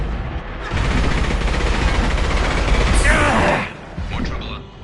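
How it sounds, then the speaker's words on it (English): Concussive shot ability fired in Mass Effect 2, a dense roaring blast of game combat noise lasting about three seconds, with a whooshing energy burst near the end, then it drops off briefly before ambient noise resumes. "Firing concussive shot!"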